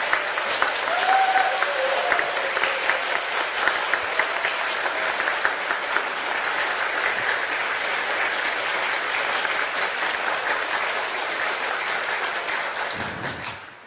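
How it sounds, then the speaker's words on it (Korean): Audience applause welcoming a journalist guest onto a Korean stage event, a dense, steady wash of clapping that holds loud for about thirteen seconds before cutting off abruptly. "큰 박수로 환영의 뜻을 전해주십시오."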